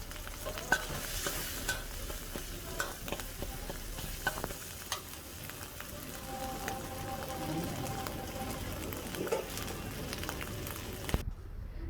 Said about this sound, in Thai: ผัดพริกแกงค่ะกับน้ำมันนะคะ คั่วพริกแกงให้หอมค่ะเพื่อนๆ